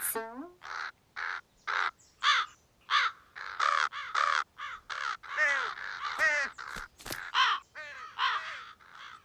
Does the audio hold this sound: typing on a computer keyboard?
no